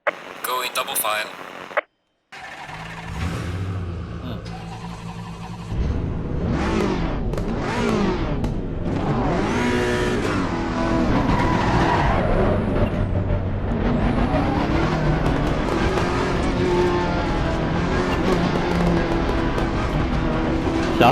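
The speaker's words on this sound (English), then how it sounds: "just tickling the throttle in first. Those pops and crackles from the exhaust, sounds good." A race car engine in the video game Assetto Corsa Competizione idles and blips at low speed in first gear, with popping and crackling exhaust bursts, while a voice talks steadily over it.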